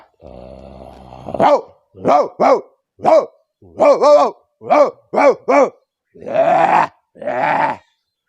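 After a low growl, a person imitates a dog with a rapid series of loud, short barks, ending in two longer, rougher woofs.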